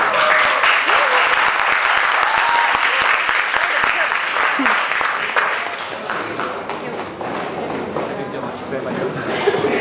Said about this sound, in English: let's give a big applause to Camila Landaeta with the Celestial Project